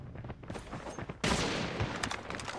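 Sniper rifle fire in a video game: a sharp, loud shot bursts in partway through and its echoing crack and rattle trail off, following quieter scattered game noise.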